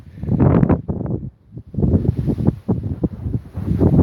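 Wind buffeting a microphone outdoors, a loud, uneven low rumble that rises and falls in gusts, with a brief lull in the middle.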